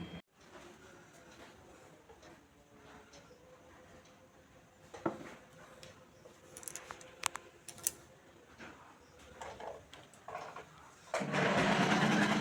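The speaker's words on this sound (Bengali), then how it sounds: "ওর বাবা পর্দা সেলাই করছে" A sewing machine stitches curtain fabric at home in quiet, uneven bursts of whirring and ticking, with a few sharp clicks and a louder burst of noise at the end.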